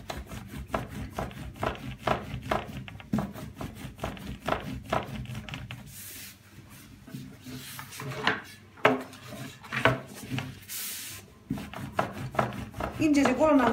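Dough being rolled thin with a wooden rolling pin on a board, repeated rubbing, knocking strokes in uneven rhythm, close and moderately loud, with a voice talking over parts of it.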